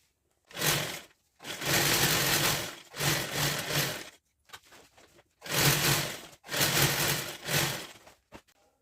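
A sewing machine stitches a tour bag, running in several sustained bursts of loud mechanical whirring with short pauses between runs.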